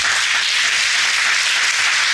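A church congregation claps together after a prayer, a steady dense wash of applause filling the room without a break and with no voices on top.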